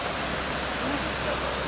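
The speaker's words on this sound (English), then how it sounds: "This is called the Florence waterfall." Florence Falls waterfall in Litchfield Park, Northern Territory, Australia, a steady broad roar of falling water heard from an observation deck, loud and continuous.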